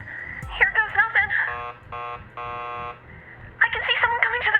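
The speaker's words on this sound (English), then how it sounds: "keep calm and ring the buzzer" A door buzzer rings in a horror video game, heard as two steady, harmonically rich electronic buzzes with brief pauses, set between processed, radio-like game voices talking before and after.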